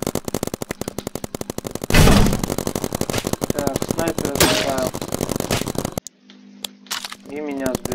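Rapid paintball gunfire from the game Big Paintball rattles in a fast, steady stream of shots over game noise, with someone talking over it and a brief pause near the end.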